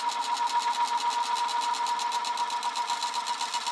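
Falex lubricant test machine running under rising load with an oil additive, giving a steady, fast, evenly pulsing mechanical whir with a bright tonal hum, close and continuous throughout.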